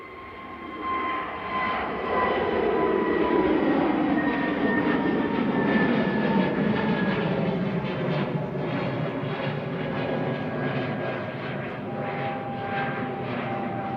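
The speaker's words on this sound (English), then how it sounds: "SAS flight 4610 to Oslo, departing now. SE-ROJ, an A320neo," An SAS Airbus A320neo, registration SE-ROJ and four years old, departs Manchester Airport for Oslo. Its engine roar swells quickly and then holds as a loud, sustained drone with a shifting whine.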